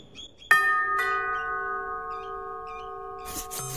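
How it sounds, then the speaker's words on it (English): A doorbell chimes with two clear, bright ding tones that ring out and slowly fade, followed by faint shuffling and a short scraping noise. "I'm ringing the doorbell."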